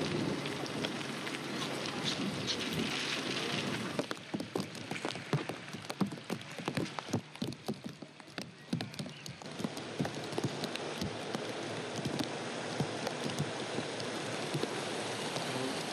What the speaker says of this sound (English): I'm glad it's raining